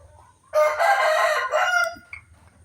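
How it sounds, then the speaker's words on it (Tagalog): A rooster crows loudly and close, one long drawn-out call, with soft clucking from chickens before and after. "Dito lang yan sila, yung mga manok."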